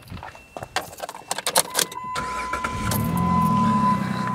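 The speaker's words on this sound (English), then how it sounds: "I have 10 seconds to fire up the vehicle." A car engine cranks and fires up after a battery jump from a portable jump starter, with clicks and rattles first, then a steady idle settling in alone.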